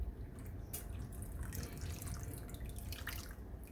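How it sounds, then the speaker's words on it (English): Lime juice pours into a pot in a home kitchen, a steady liquid trickle with faint drips running through the whole stretch, close and fairly quiet. "Get all that lime juice in there."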